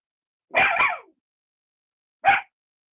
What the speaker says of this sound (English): My apologies for the dog barking.